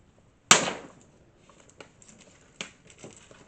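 Adhesive tape stretched across a sheet of paper snaps as it is pulled, making one sharp, loud crack. Fainter crinkles and small ticks of the tape and paper follow.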